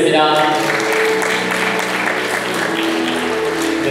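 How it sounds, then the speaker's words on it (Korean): Wedding guests applaud steadily and loudly together in a reception hall, with music and a voice carrying over the clapping throughout. "여러분 박수 부탁드리겠습니다"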